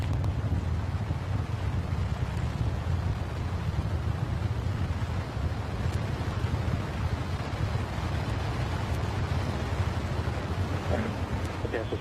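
The four engines of NASA's SLS core stage roar during a static hot fire test, a dense, steady, rumbling low roar held for the whole stretch without pause.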